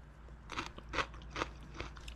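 Crisp crunching bites on pickled celery from a Mexican vegetable escabeche, four distinct close crunches spaced evenly, quiet and alone.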